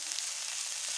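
Cauliflower and onion frying in a pan over a medium flame, a steady close hiss of sizzling oil with no breaks and no voices.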